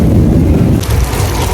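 Heavy rain pouring during a thunderstorm outside a movie theater, a dense, loud, steady roar with low rumbling underneath, close to the microphone.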